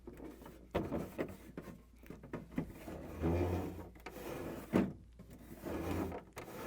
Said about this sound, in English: So we're going to insert this in and push it and place it in too.